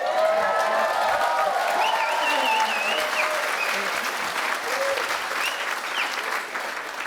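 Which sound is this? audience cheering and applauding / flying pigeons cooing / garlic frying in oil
audience cheering and applauding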